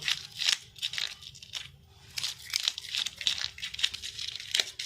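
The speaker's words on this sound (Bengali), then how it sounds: "পিলার দিয়ে আগে মাছের আঁশগুলো ভালো করে ছাড়িয়ে নেব" A vegetable peeler scrapes the scales off fresh fish in a kitchen, making close, crisp, crinkling rasps in repeated strokes and bursts with brief pauses.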